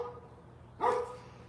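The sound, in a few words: dogs barking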